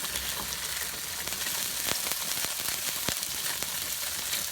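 Silken tofu sizzling in a hot stir-fry pan, a steady close hiss of frying with soft crackles and a few sharper pops, no voices.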